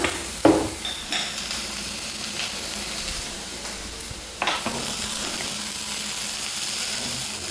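Ingredients sautéed in a pan over high flame while making creamy white sauce pasta, giving a steady hiss with occasional scraping stir clatters near the start and midway.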